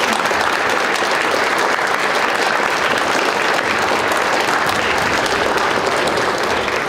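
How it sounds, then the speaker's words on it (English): An audience at a school Veterans Day concert applauds continuously and evenly for several seconds, a dense wash of clapping with no talk. "a big round of applause"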